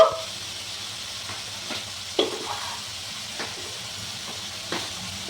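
Cumin powder hits hot oil already sizzling with ginger, green chili and garlic for an egg curry, giving a steady close frying hiss with occasional soft stirring taps in the pan.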